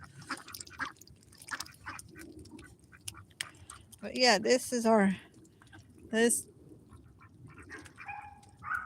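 Farm ducks quack in a few short bursts, close and fairly loud, between stretches of someone talking and some faint rustling.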